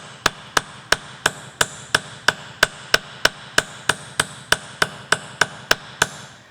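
Texture hammer striking metal jewelry blanks on a block: about seventeen sharp, ringing metallic taps in an even, steady rhythm, close and clear with no talking.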